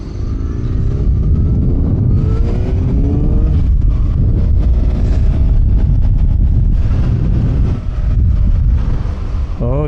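A Suzuki GSX-R 750 motorcycle is ridden on the road in upstate New York. The engine drones loud and steady under heavy wind buffeting, with rising pitch sweeps as it revs through the gears.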